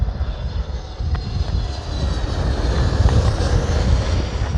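British Airways Airbus A320 airliner at London Heathrow, a loud steady jet engine roar with deep low rumble and a rising hiss as it passes nearby, with wind buffeting on the microphone and no voices.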